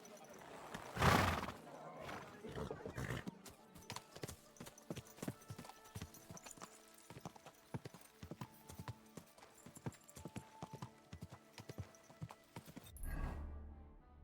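Horse hooves clip-clop in Kingdom Come: Deliverance 2, a steady walking rhythm of hoofbeats after an opening neigh or snort, with a voice talking at the start and a thump near the end.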